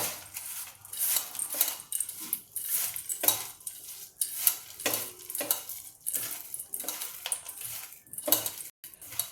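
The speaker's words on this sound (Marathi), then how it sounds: "आता ही वेळ चक्क हाताने कालवायची" Nagpuri bhel being mixed by hand with tamarind chutney, a steady series of crisp rustling, crunching stirs close by, with no talking.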